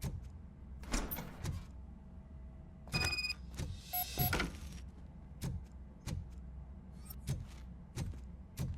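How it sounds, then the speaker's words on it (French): Door opening in the video game RoboCop Rogue City, a series of faint mechanical clunks, whirs and metallic clicks spread over several seconds, with no talking. "Now let me get that door open for you."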